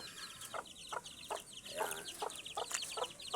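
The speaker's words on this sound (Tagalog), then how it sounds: "titignan nyo naman yung mga alagang sisiw" Pet chicks and hens cluck in short repeated bursts, a dozen or so spaced calls with faint high peeping in between, close by and fairly quiet, no one talking.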